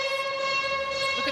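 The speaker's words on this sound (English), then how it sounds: "You can hear the siren." A netball match siren sounds at the arena in one loud, sustained, steady tone that fills the whole moment without talk.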